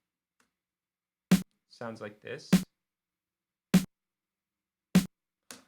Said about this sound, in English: And that's the Dr. Bohm snare.